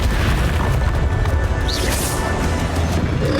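A Confringo fire spell blasts during the final boss fight in the video game Hogwarts Legacy: a loud, dense, continuous booming crash that rumbles throughout with no pause.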